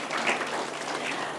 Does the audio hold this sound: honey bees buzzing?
no